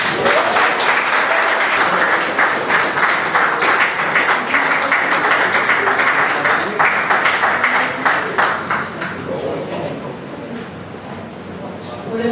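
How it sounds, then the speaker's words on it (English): Loud, sustained applause from a crowd at a wrestling lunch, steady clapping filling the space for several seconds before gradually thinning out. "can I please ask you to give a big round of applause, please?"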